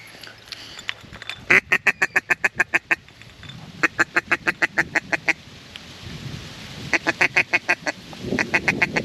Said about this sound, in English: Mallard just landed right over there.